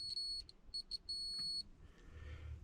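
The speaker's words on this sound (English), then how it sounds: "if it beeps, I suppose we've got continuity for it" A multimeter continuity tester sounds a series of high-pitched electronic beeps in short bursts, then one longer sustained tone, fairly faint and alone, followed by a soft rustle, while testing a fuse on a Mercedes W126 560SEL.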